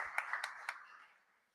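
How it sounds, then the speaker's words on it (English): An audience in a room at an evening awards finale applauds briefly, a dense patter of clapping with a few sharper claps, fading out within about a second and a half. "we can applaud them"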